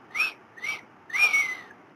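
Three short whistle blasts, each a bright sustained tone, with the third blown longer and louder than the first two, sounding fairly close and clear with no talking.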